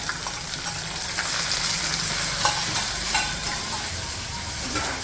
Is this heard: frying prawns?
yes